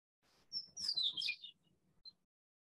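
A short, bright Chestnut-collared Longspur song phrase of high, rapid tinkling notes, with a faint low rumble under it and a single high note after.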